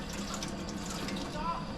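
Apple cider vinegar and water being poured into a steamer pot while preparing to steam crabs, giving a steady close liquid pouring and splashing sound throughout, with a voice talking over it.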